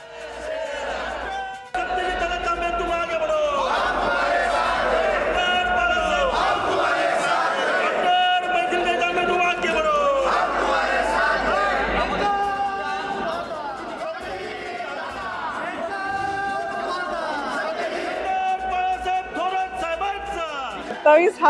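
A dense crowd roars and chants in celebration of an election win at Balasaheb Thorat's residence in Sangamner, loud and continuous, with shouting voices layered over one another throughout.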